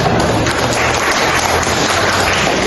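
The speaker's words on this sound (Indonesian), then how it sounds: "Tepuk tangan untuk 3" A room full of people applauding, a dense, even wash of clapping that holds steady from start to finish.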